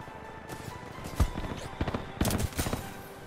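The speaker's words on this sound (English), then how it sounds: "I'm getting shot" Incoming gunfire strikes the player in Titanfall 2's Angel City map, a rapid fusillade of sharp shots with heavier bursts clustered near the middle and end of the clip, up close and loud over game ambience.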